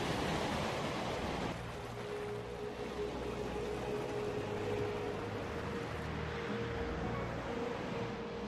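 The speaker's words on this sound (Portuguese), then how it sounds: "As ondas batem forte na areia." Heavy surf pounds the sand along a wild southern Brazilian beach, a steady, dense wash of breaking waves with no voices.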